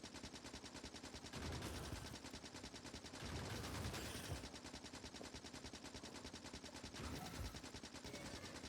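Turrets in the video game Factorio fire continuous rapid machine-gun bursts, a dense rattling stream that swells and eases slightly over several seconds without any speech.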